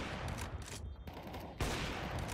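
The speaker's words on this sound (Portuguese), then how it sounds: "Quantos tiros do Trai tão indo, mano?" Rapid gunfire from a Counter-Strike match in a professional esports game, sharp bursts of automatic rifle shots crackling in quick clusters with brief gaps, loud and close, with no voices over it.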